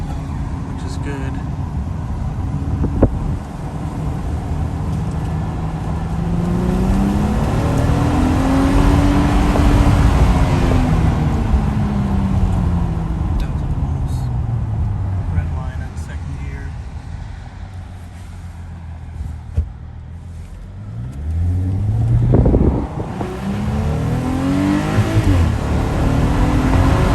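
A 78,000-mile VW Atlas with a VR6 engine revs up and falls back in long rising and falling sweeps, with one sharp blip near the end, loud and close, over a steady idle hum.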